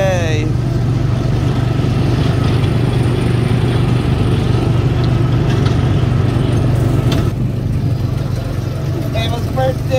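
A small go-kart engine at Disney drones steadily and up close for the whole stretch while Ava drives, with voices talking over the motor.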